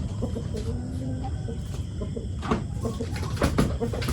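Birds in a coop coo and cluck over a steady, busy background, with a few sharper calls standing out near the end.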